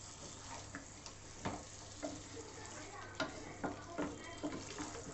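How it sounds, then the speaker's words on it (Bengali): Meat and spices sautéing in a pan over raised heat for a Bengali dish, a steady frying sizzle with scattered stirring scrapes and knocks close by. "আবার একটু আঁচ বাড়িয়ে দিচ্ছি, দিয়ে মশলাটাকে আর একটু কষিয়ে নিচ্ছি।"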